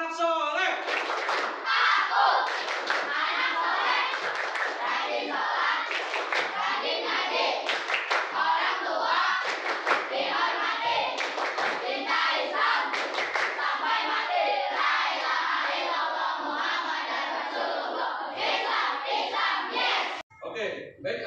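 Schoolchildren in an Indonesian classroom perform the 'tepuk anak soleh' clap chant, loud chanting voices mixed with steady rhythmic hand claps, dense and close for about twenty seconds before stopping abruptly.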